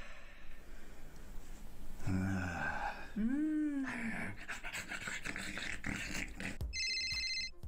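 Phone rings in a home, a short electronic ringtone that cuts in at the end after a dog pants and whimpers nearby.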